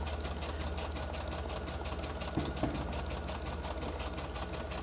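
A sewing machine stitching through printed paper for a wallet, a fast steady mechanical whir and needle rhythm heard close and continuous, with a couple of soft knocks partway through.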